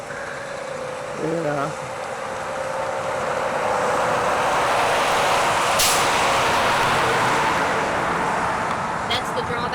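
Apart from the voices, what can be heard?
truck passing by on the highway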